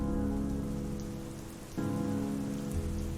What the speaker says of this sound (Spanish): La lluvia caía con tanta fuerza que el sonido de las gotas contra las lápidas parecía una ovación interminable.